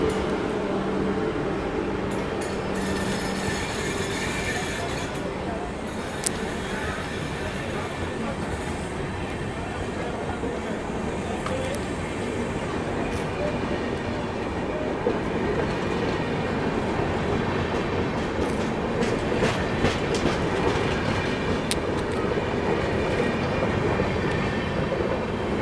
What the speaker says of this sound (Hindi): समस्तीपुर का WAP7 लोकोमोटिव के साथ ये आ गई अपनी